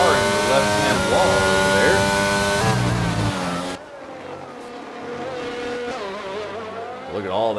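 A race car in a sim racing sprint at Imola roars at high revs and loses traction, engine pitch sweeping up and down before an abrupt cut and a change to a quieter, thinner engine note, with commentary running over it.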